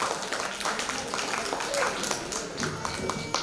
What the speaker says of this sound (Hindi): बहुत जोरदार तालियां